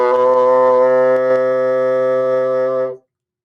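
A bassoon holds a low C as one steady, loud, rich note for about three seconds, alone and close, then stops cleanly.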